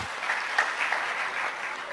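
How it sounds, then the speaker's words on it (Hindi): Crowd applause at a rally in Odisha, a dense, even burst of many people clapping that holds steady for a couple of seconds, fairly close and free of talk. "एक बार जोरदार तालियां"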